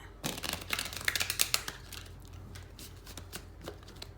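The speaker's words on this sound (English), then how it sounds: "Shuffle them up." A new tarot card deck being shuffled by hand, with a burst of rapid crisp riffling flutters and clicks up front, then softer, sparser card taps and slides, close and quiet with no talk.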